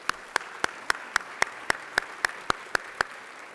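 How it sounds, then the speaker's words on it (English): Applause at a luncheon in a hotel ballroom, heard as a steady bed of many hands clapping with sharp individual claps punctuating at a regular pace, moderately loud and without talk. "Give them a round of applause, please."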